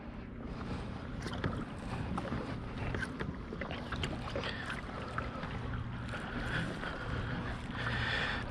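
Pedal drive kayak moving across water: steady low churning and splashing with gusty wind noise, close and continuous, with no one speaking.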